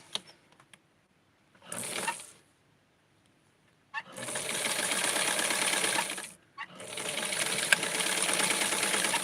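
A sewing machine stitches a small skirt for an 8-inch Penny Bright doll, running in a short burst, then two long steady runs separated by a brief stop, close and moderately loud.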